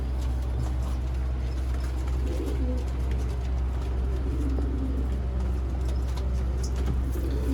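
Sialkoti pigeons cooing softly in a loft over a low, steady background hum, with faint scattered bird calls and occasional distant traffic.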